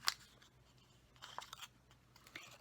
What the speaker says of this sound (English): used my snips to come across and cut that